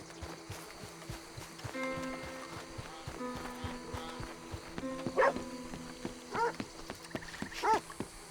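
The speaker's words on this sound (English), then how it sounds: "You're a good dog." A dog in the video game Red Dead Redemption II makes soft barks and whimpers over a steady game ambience with insect-like buzzing, a few louder yelps standing out near the end.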